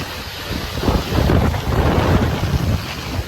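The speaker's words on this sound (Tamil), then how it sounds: "கண்ட்ரோல் பண்ண முடியல, செம்ம காத்துங்க." Strong cyclone wind roars in gusts across the microphone, a loud, continuous rushing buffet with deep low rumble that swells and stays heavy throughout, no voices over it.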